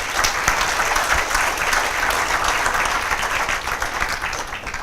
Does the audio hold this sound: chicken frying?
no